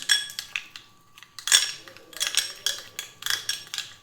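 Multani mitti face pack paste being mixed with rose water in a small bowl, giving light clinking and scraping of a spoon against the dish in short irregular bursts, close up.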